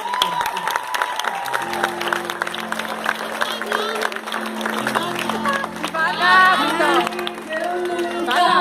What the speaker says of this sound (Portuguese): Palmas para a Vitória